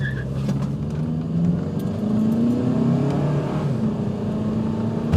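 A car held on brake torque, then launched hard and accelerating, a steady loud engine drone with a rising tone running continuously throughout, no voices over it.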